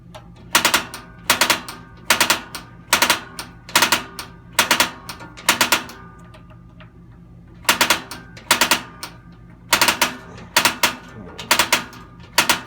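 Propane stove igniter in a 2017 Jayco Eagle HT 285RSTS RV, sparking while air is bled from the gas lines: loud, close, rapid bursts of sharp clicks in repeated clusters, with a short pause midway.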